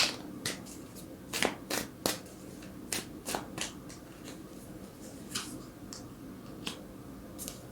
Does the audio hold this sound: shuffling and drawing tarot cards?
yes